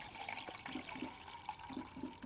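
Water pours into a Toaks 750ml titanium pot for backpacking oatmeal, a quiet, soft continuous splash lasting about two seconds with no talking.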